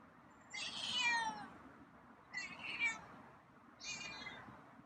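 A feral cat at the door gives three drawn-out meows, the first longest, close and fairly quiet over a faint background hum.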